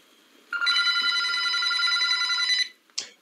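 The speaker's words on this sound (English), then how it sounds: "another phone, this one with push buttons, starts ringing in another room" A push-button telephone rings in another room, a single bright, continuous electronic ring of about two seconds, followed by a short fainter chirp.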